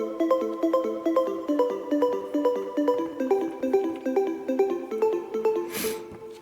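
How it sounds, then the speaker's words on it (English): Layered Nexus synth plucks built from the Lights, Essential 1 and Bandit presets play a fast, bouncing melodic pattern at steady volume, with a brief hissy noise swell near the end. "It's a really nice plug round sounding synth."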